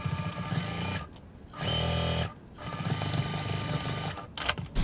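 A sewing machine stitches a sling bag pocket in several bursts of fast, steady needle hum, starting and stopping with short pauses, nearby and loud, with small handling sounds in between.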